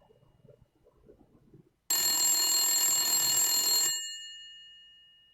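A telephone rings once in a loud, bright electronic burst lasting about two seconds, then its tones decay away, following a stretch of faint muffled sound.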